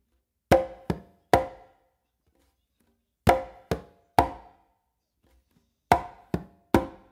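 Conga pattern of open basses struck with the non-dominant hand followed by two close slaps, three sharp hand strikes per group repeated three times with pauses between, close and dry with no talk.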